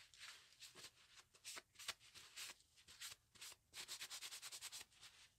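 A cloth or pad rubs leftover rust off a derusted metal pot in quick, close scrubbing strokes, a faint, rhythmic brushing that speeds into a fast even run of swipes near the end.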